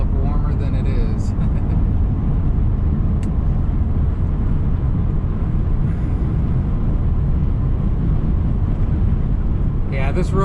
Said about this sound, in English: this road is pretty busy, 41, going up north. Between millions of RVers like myself, semi-trucks, lots of cars.